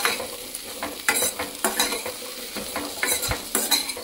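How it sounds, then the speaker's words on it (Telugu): Raisins and cashews fry in a pan over medium flame, a bright sizzle broken by brisk, repeated stirring scrapes and light metallic clinks, no voices. "ఎండు ద్రాక్షాలు జీడిపప్పులు కూడా మనం మీడియం ఫ్లేమ్లోనే వేయించుకోవాలి"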